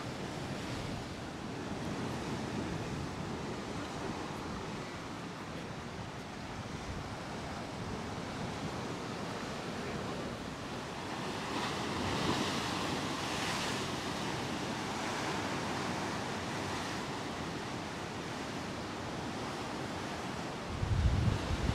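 Sea waves and high wind at Santa Ponsa, Mallorca, heard as a steady broadband roar of surf with wind buffeting the microphone, swelling slightly midway and gusting harder at the end, with no talking.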